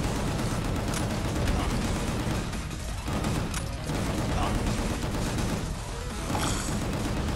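Gunfire in the Gungrave G.O.R.E. video game, with dense sustained shooting and crashing impacts filling the scene, loud and nearly continuous, while a voice talks over it.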